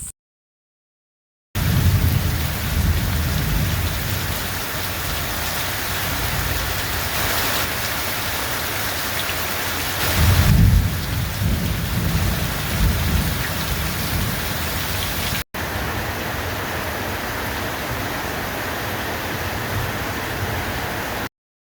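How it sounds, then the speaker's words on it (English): Heavy rain from a night thunderstorm pours over the bush in a dense, steady roar, with a low rumble of thunder swelling midway and brief silent gaps at the start and near the end. "As you saw, there was a storm last night"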